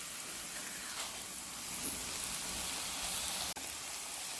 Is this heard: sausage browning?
yes